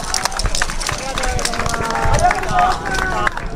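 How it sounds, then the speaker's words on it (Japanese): An audience applauds after a yosakoi group dance at the Mobara Tanabata festival. Dense, steady crowd clapping continues throughout, under an announcer's voice. "皆さん今一度大きな拍手をお願いいたします"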